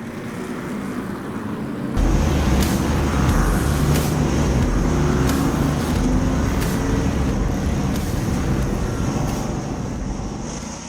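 Street stock race cars roar at Boomtown Speedway during a heat race, a loud, dense wall of engine noise swelling after a couple of seconds and holding steady as the pack runs.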